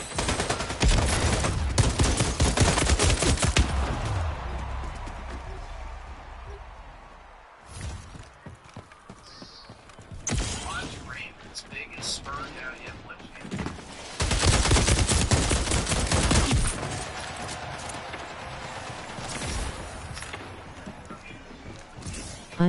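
Pistol gunfire in a video game, several loud bursts of rapid shots separated by quieter gaps, close and harsh, with a brief pause before firing resumes in clusters toward the end; a voice speaks faintly at times.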